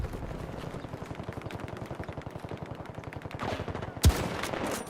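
Rapid automatic gunfire crackles in the video game Battlefield 2042, with a steady stream of close, evenly spaced shots followed by a single sharp, louder report near the end, with no talk over it.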